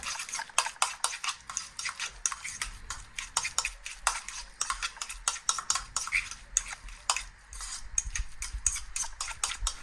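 Egg salad with Dijon mustard, salt, pepper and paprika mixed in a bowl, giving a steady run of quick scraping, tapping clinks of a utensil against the bowl, close and continuous with no voice.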